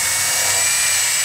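Power drill whirring steadily while pre-drilling holes into wood boards for a garden raised bed, a continuous high-pitched motor whine held close and loud throughout, with no talk.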